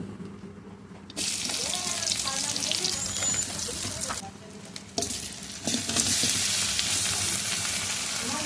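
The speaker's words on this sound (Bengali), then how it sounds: "কড়াইতে তেল দিয়েছি সরিষার তেল গরম হলে তার মধ্যে পেঁয়াজ কুচি দিয়ে দিয়েছি তারপর দিয়েছি গলদা চিংড়ি ভালোভাবে নেড়ে চেড়ে" Chopped onion and giant freshwater prawns frying in hot mustard oil in a kadai, a loud close sizzle with stirring scrapes and bursts of louder crackle.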